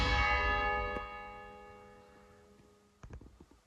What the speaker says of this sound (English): I felt very fortunate to walk in just as the bell began to ring.